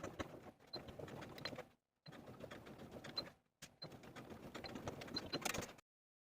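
A domestic sewing machine stitches down a dress facing at the shoulder seam, its rapid mechanical whirring running in three close bursts with short pauses between, steady and fairly quiet with no voices.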